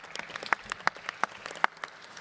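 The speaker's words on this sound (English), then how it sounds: "a special round of applause also for them" Sparse, scattered hand claps from a small audience at the Global Resilience Day launch at World Expo in Dubai, faint and somewhat distant, with individual claps standing out rather than forming a dense roar.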